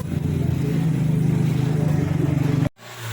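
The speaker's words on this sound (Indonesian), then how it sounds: "Pasang lagi baru dinyalakan mesin." A Toyota Avega engine runs after tuning, with a steady, close, pulsing idle that stops abruptly near the end.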